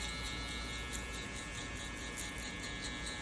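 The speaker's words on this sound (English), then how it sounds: "I'm going to go ahead and open the lever all the way on the clippers." Electric hair clippers buzz steadily and close during a burst fade haircut with a guard fitted, a constant even hum with no speech.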